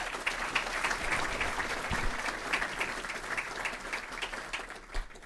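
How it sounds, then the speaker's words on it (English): Audience at an investment manager conference award ceremony claps for an awardee, a moderately distant, even wash of applause from a room of people, steady throughout with a faint thump near the end. "Give him a big round of applause."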